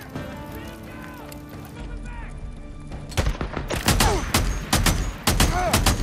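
Gunfire from the PS4 Pro video game Days Gone: a quieter stretch of game ambience gives way to loud, rapid shots fired in quick successive bursts during the second half.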